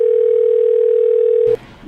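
A telephone dial tone, a steady loud unbroken tone held alone for about a second and a half before it cuts off into faint room noise.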